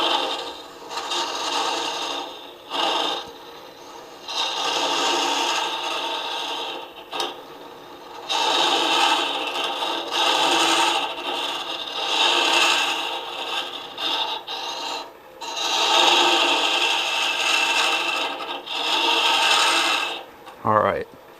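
Wood ornament being hollowed on a lathe with a Laurent Niclot mini hollower, repeated close scraping bursts of the cutter against the spinning wood, separated by brief pauses.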